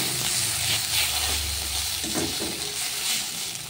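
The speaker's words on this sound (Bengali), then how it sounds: "সসটা একটু নেড়ে নিলে খুব তাড়াতাড়ি হয়ে যায় এটা" Bread coated in sauce sizzles and fries in a pan while being stirred, a steady close hiss with faint scraping, no voices.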